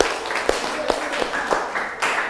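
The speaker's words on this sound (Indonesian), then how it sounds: "Oke, tepuk tangan untuk kita semua ya." A classroom of children claps during an academic coaching session, producing a brief burst of fairly loud, mixed clapping with a few distinct sharper claps standing out.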